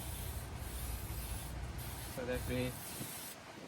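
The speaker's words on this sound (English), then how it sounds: "The last thing to do is use the brake cleaner and then spray, make sure there is no grease, and then wipe it off" Aerosol brake cleaner is sprayed onto a front brake rotor of a 2013 Mercedes Sprinter 2500, giving soft, steady hissing at close range, with a brief bit of speech near the end.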